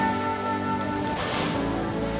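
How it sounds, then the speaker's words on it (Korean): Ocean waves crash against rocks at the Kiama blowhole in Australia, a steady roaring surf that swells into a louder rushing wash partway through. "바위를 때리는 파도 소리가 우렁차다."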